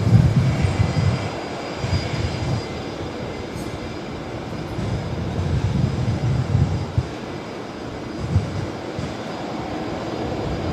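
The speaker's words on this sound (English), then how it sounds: "Qantas 988 just departed from runway 19 right." Qantas airliner taking off from runway 19 right at Brisbane Airport in gusty, stormy wind, a steady loud jet engine roar heard from a distance that holds for the whole stretch with no talk.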